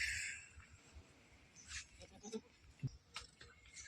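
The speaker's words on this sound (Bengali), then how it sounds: "এই দেখো আমাদের ছাগলের বাচ্চা হয়েছে" Goats and young kids of a native farm breed bleat in a few short, wavering calls, fairly faint, with light shuffling and rustling between the cries.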